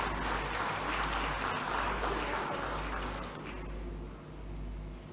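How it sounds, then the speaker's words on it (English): Applause from an audience in the Gauteng provincial legislature chamber during the state of the province address, a dense sustained wash of clapping that thins and fades partway through. "you can clap hands, colleagues"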